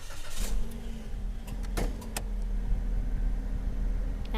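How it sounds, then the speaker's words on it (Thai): A 2017 Toyota Vios 1.5 E with a 1,500 cc engine and CVT idles steadily with a low continuous hum, with a few sharp clicks and knocks on top and no voices. "อย่างที่บอกกันนะฟังเสียงเครื่องยนต์กันสักนิดนึง"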